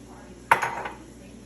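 Sautéed onion and garlic go into a cooking pot for cabbage rolls, with a single soft metallic clank of a utensil against the pot that quickly fades in a quiet kitchen.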